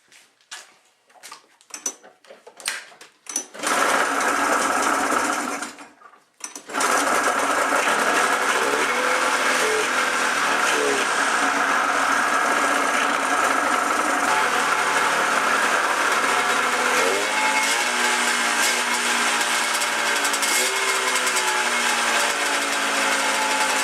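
Carbureted engine cold-started with chokes on: a few sharp cranking bursts, a brief pause, then it catches and settles into a loud, steady idle that runs on continuously, close by and without talk.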